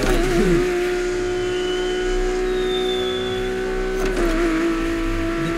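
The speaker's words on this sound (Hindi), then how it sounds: "लैम्बोर्गिनी है भाई" A Lamborghini engine roars at high, steady revs while racing in The Crew Motorfest, a loud sustained drone with a brief dip and shift in pitch midway.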